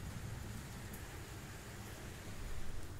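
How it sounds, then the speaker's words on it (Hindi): Heavy rain falls in a steady, faint wash of noise with a soft low rumble underneath, no voices over it. "बहुत तगड़ी बारिश हो रही है"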